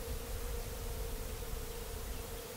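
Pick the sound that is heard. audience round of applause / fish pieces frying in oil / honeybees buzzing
honeybees buzzing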